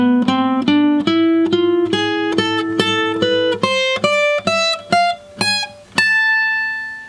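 A gypsy jazz lick in A harmonic minor on guitar, about fifteen crisp picked notes climbing steadily in an even rhythm over a low held tone, ending on a sustained high note, played alone and close.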